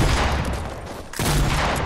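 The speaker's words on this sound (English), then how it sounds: "I'm getting shot from the fucking mountaintop." Gunfire in Fortnite crackles in a loud, dense, continuous fusillade. It thins out for a moment, then bursts back at full strength, with no voices over it.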